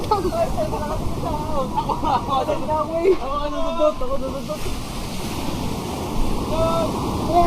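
Ocean surf rolls and washes steadily under wind noise, while several people talk and call out over it.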